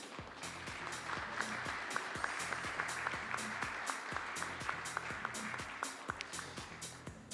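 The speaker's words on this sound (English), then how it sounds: "taking 8th place in the final, round of applause for Germany's Jan-Luca Karstedt." Audience applause with steady dense clapping for a finalist placing eighth at a youth air pistol shooting final at the 2018 European Championships, sustained and fairly even throughout with sharper individual claps standing out.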